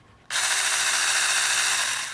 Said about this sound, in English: here is the little chainsaw